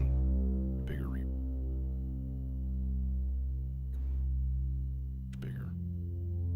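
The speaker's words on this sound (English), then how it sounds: "So we got our nice happy bass drone. It's droning along. Bigger reverb." A Eurorack modular synthesizer holds a sustained bass drone with a big reverb, a steady, rich tone that swells gently and keeps going with no break.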